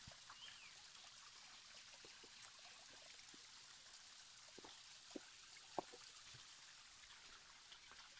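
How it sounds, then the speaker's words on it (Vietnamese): A small forest stream trickles with a faint, steady watery hiss and occasional soft drips, heard alone and quiet. "Khát nước chảy róc rách đây."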